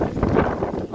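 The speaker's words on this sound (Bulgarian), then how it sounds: "Ох, че духа днес." Strong wind gusting outdoors in Varna, a steady broadband rush buffeting the microphone throughout the short moment with no pauses.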